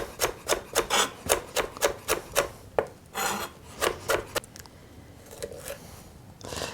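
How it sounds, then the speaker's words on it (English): A knife finely chopping lemongrass on a board, a quick series of crisp chopping strikes in steady rhythm, close and fairly loud, trailing off into quieter scraping. "Cut it in half, then in quarter, and finely chop it."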